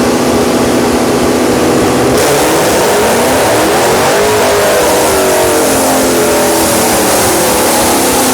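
A high-horsepower pony car engine roars at full throttle on a rear-wheel dyno, very loud and close, its pitch climbing steadily through a long pull toward 6,100 RPM.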